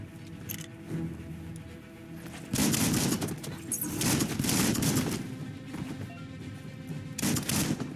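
Rapid bursts of pistol fire in the video game Biomutant, loud, dense volleys around three and five seconds plus a final burst near the end, layered over game music and effects.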